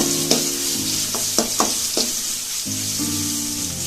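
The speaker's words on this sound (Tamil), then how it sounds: "லைட்டா வதக்கி விட்டுக்கோங்க." Mustard seeds, curry leaves and crushed garlic sizzle steadily in a pan for banana stem poriyal, with a few sharp stirring scrapes and pops over the continuous frying hiss; no talking.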